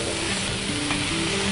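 Scallops sizzling in a hot pan, a steady close frying hiss that stays loud and even throughout, with no voices.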